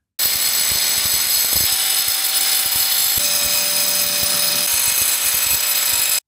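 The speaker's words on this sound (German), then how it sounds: "dann sollte ich auch perfekt auf 45 Grad das Ganze auf Gärung schneiden können" A power tool cuts a tile skirting board at a 45-degree miter, giving a continuous loud high-pitched grinding whine from start to finish, with no talking.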